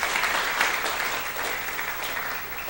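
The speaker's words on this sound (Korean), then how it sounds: "우리 크게 격려의 박수 부탁드리도록 하겠습니다." A church congregation gives encouraging applause, a steady, even wash of many hands clapping that fades slightly toward the end.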